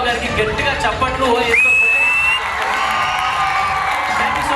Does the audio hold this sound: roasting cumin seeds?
no